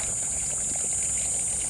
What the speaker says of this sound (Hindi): the beautiful fountain of this Gautam Buddha